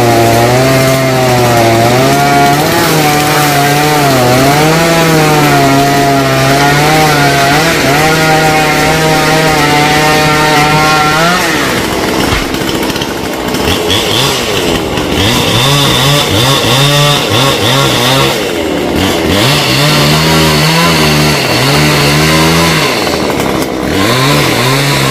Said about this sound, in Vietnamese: Cưa xong phần nhánh bên kia rồi